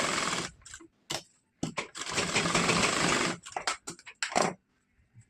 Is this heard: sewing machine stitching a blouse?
yes